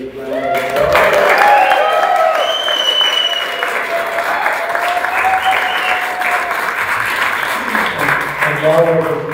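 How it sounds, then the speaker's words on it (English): A church congregation applauds to welcome new members at an annual Sunday service, steady loud clapping sustained for about nine seconds with cheers and voices mixed in. "if you would all join me in welcoming them with a big round of applause."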